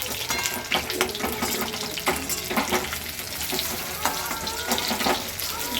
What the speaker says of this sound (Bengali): এই যে দেখুন ভেজে নিচ্ছি পরপর।